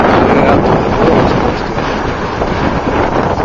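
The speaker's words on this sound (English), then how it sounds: "It's very windy." Strong wind buffeting the microphone beside Lake Lowell on a cool December day, a loud, continuous rumbling roar that swells and eases slightly without pause.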